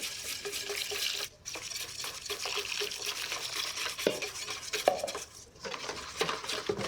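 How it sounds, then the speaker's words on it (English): Olive oil and liquid are stirred into chickpea flour for a flatbread batter, with a steady wet churning and repeated light clinks of the utensil against the bowl, close by and uninterrupted by speech. "And then stir your liquid into the center and draw the flour on the middle."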